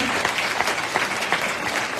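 A church congregation in Madagascar applauds together, a dense burst of clapping from many hands at close range, steady and lively for the whole moment.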